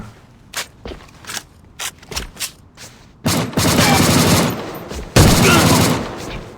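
SCAR-L F.Serpent rifle fire in the online shooter A.V.A, starting with spaced single and double shots and then breaking into long, loud sustained bursts of automatic fire.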